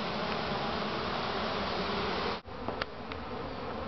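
A swarm of wild bees drones in a dense, continuous buzz close to the listener, steady and loud throughout, with a brief dip and a few faint knocks partway through and no talking.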